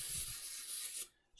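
A short hissing spray of CA glue activator aerosol lasts about a second, then cuts off abruptly into near silence.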